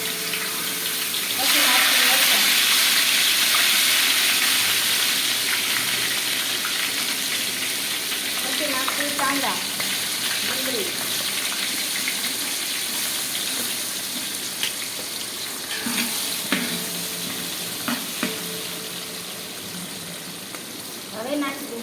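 Curry leaves dropped into hot oil, a loud burst of sizzling that settles into a steady crackle with occasional clinks and stirring, fading slightly toward the end, with a voice speaking over it.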